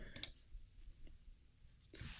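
Two quick computer mouse clicks sound close together at the start, followed by a quiet stretch with a faint tick and then a soft rustle near the end, as if dragging.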